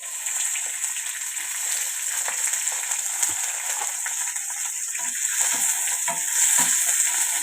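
Green chillies fry in hot oil while being stirred in a pan, giving a steady, close, continuous sizzle with scraping stir sounds and no talking.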